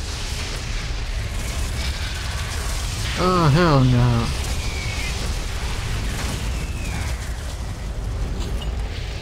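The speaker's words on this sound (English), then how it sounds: "Explosions, I guess?" Low rumbling explosions from the Doom 3 BFG game fill the clip with a steady, heavy booming roar, while a player briefly shouts in the middle of it.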